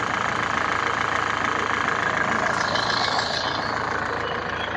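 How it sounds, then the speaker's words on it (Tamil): A 2007 Hyundai Verna diesel engine idles close by with a steady, even knocking rumble and a faint rattle running continuously, no voices over it. "இன்ஜின் பீட் வந்து கரெக்டாக இருக்குது"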